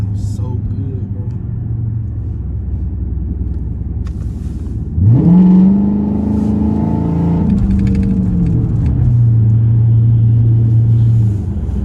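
A straight-piped 2012 Dodge Charger RT rumbles deep and loud while driving, then its exhaust flares into a rising roar as it accelerates before settling back to a heavy drone, with someone talking over it.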